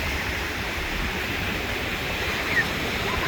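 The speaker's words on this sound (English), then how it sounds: "This wind is crazy, and I don't have a wind muff." Strong wind buffeting an unshielded microphone outdoors at a beach resort, a dense continuous roar and rumble with no breaks.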